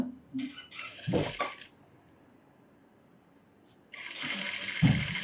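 A sewing machine stitches the puff sleeve of a blouse, running in a short close burst, falling silent for about two seconds, then starting again in a steady whirring run.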